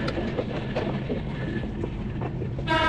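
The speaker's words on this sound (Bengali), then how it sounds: "আমরা সান্তাহার রেলওয়ে স্টেশনে ঢুকে পড়ছি।" A train rolls into Santahar railway station with a steady rumble and faint rhythmic clatter from inside the carriage, ending with a brief high whine.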